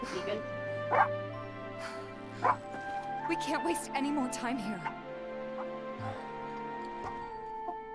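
Small dogs yip and bark in short bursts in Final Fantasy 7 Remake, a few sharp calls scattered beneath game music and character dialogue.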